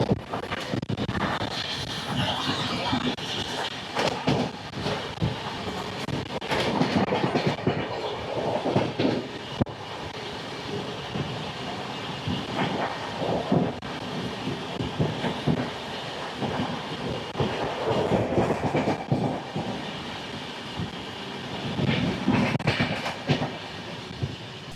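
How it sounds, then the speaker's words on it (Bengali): Black Diamond Express train running, heard from inside an LHB coach: continuous rumbling with repeated clickety-clack of wheels over rail joints, steady and fairly close, with no speech. "ফাইনালি রানীগঞ্জে চলে এলো ট্রেন।"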